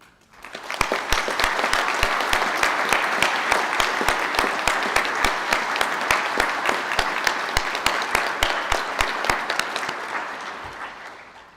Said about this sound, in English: Can I ask the graduates of the Bachelor of Arts Honours in International Hotel Management to stand to receive their applause?